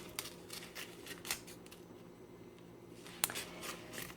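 Scissors snipping open the pull tab on a DiGiorno Thin & Crispy pepperoni and peppers pizza box, a few sharp, quiet clicks and cuts separated by pauses, close up with no talking.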